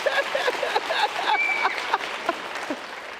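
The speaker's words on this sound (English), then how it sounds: "there was some applause for Ecuador in the house" Scattered audience applause at a choir concert, fairly quiet and uneven, with individual claps standing out against a soft room background.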